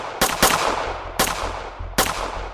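Gunshots ring out in a sharp staccato: a quick pair of cracks, then two more single shots spaced about a second apart, each loud and close with a short rumbling tail.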